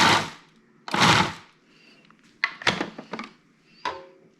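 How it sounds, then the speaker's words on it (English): A food processor chopping fresh tomato salsa runs in a few short motor pulses, each a loud whirring burst with gaps of quiet between them, close by. "as that motor comes on, it kind of kicks everything up"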